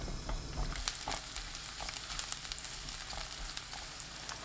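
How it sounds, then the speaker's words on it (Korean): Sliced garlic frying in olive oil in a pan over medium heat, giving a steady close sizzle with fine crackles and pops throughout, no voices. "팬에 올리브유 3큰술, 마늘 넣고 중불로 1분 30초 볶습니다"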